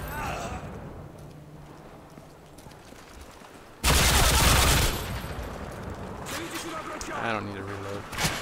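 A light machine gun fires in the Modern Warfare 3 survival mode, a loud dense burst of rapid shots lasting about a second. Someone talks before and after it, over quieter game sounds.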